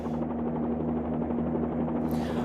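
A Bell 47-2G helicopter engine in a flight simulator game gives a steady, close, droning rotor-and-engine hum with a constant pitch through the whole short stretch.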